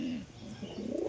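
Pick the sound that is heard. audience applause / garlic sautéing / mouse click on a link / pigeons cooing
pigeons cooing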